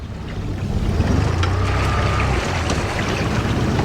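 A boat's outboard motor runs steadily on a river while out fishing for walleye, a continuous low drone mixed with wind buffeting the microphone and water noise.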